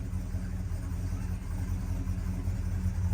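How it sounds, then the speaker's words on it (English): A 1960s classic car engine idles in a steady, low, close rumble with no talk over it. "When was the last time this car ran and it just fired up without me even touching the gas?"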